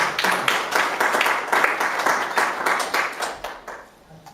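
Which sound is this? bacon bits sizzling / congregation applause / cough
congregation applause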